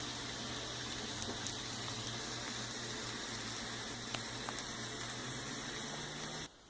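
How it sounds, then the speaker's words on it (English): Boiled gnocchi sautéing in butter with garlic and green onion in a pan, giving a soft, steady sizzle and bubbling that holds evenly for several seconds before cutting off at the end. "I'm sauteing them up in butter with a little garlic and green onion."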